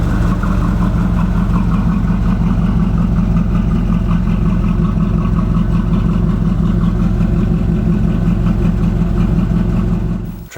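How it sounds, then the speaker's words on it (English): A 1984 Camaro Z28 V8 with a Quadrajet carburetor runs continuously, a loud, close, steady low rumble with a fast even pulse and no talk over it. "just a couple pumps of the gas, it'll fire right up and run and take you down the road."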